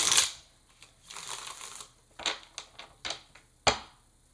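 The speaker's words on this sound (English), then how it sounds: "I'm only going to shuffle once more and then we'll get going" Tarot cards being shuffled by hand, giving a burst of riffling at the start, then a longer soft shuffle and several short sharp card snaps and taps, close and fairly quiet.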